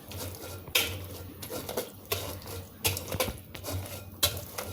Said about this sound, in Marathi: आता हे अशा पद्धतीने स्मॅशरनी त्याला स्मॅश करते